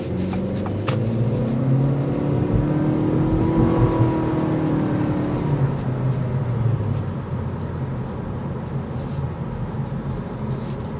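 A 2023 Acura Integra A-Spec with a CVT pulls away and accelerates, its engine drone rising steadily in pitch over several seconds before easing off, heard from inside the cabin as a constant near hum.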